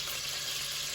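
Flour is stirred into hot butter and turkey fat in a pan, giving a steady, even sizzle of frying close by with no talk over it.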